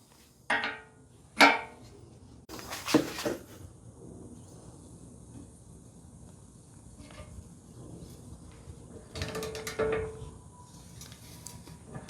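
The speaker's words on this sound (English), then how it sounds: "Let's get the torque wrench on it and see how easy it is to remove" A torque wrench working a heated, stuck, rusty bolt loose: a few sharp metallic clicks and clunks scattered across quiet stretches, with faint handling noise between them.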